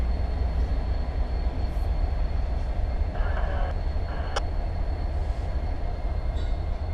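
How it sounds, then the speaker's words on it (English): An intermodal freight train slows on the far track of a rail yard, a steady broad rumble and rolling noise from a distance with a brief faint squeal or clank partway through, no voices. "Our intermodal train on the far side slowing down"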